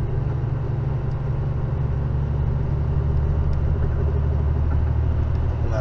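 A heavy truck engine labours up a mountain road in high gear with the turbo working, a steady deep close rumble drones throughout with no clear gear change, and no voices.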